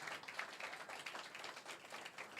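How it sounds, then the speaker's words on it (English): Conference audience clapping and applauding steadily throughout, a dense wash of many hands at moderate distance with no pauses. "I would love it if you can clap."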